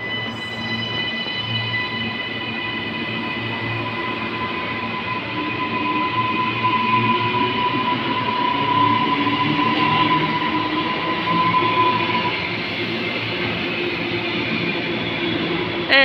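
Train pulling away from a platform at South Brisbane station, a steady rolling rumble with a sustained high squealing whine from the wheels and motors, fairly close and continuous throughout.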